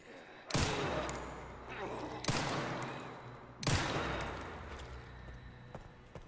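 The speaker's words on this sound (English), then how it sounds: "I gotta shoot this guy first." Three heavy gunshots fired in the survival-horror video game Resident Evil Requiem, loud booming blasts spaced about 1.5 seconds apart, each trailing off into a rumbling decay.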